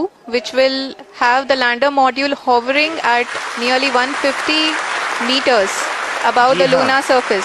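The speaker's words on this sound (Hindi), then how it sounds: "आप इस तालियों के गड़गड़ाहट को सुन सकते हैं" Applause from ISRO scientists in mission control during the Chandrayaan-3 lunar landing descent, a steady clapping wash rising in the middle while someone speaks over it with commentary.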